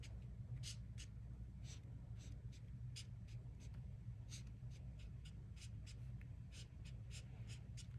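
A marker squeaks and scratches over stamped image details on a card in a mid tan shade. The short strokes are quiet and close, and they repeat in an irregular rhythm over a faint low hum.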